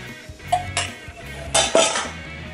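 Beaten eggs and seasonings whisked in a bowl, a short run of close clinking, scraping utensil strokes against the dish with a few sharper knocks, no talking.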